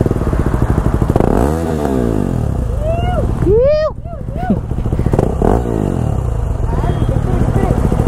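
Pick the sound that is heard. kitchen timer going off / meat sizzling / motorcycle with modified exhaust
motorcycle with modified exhaust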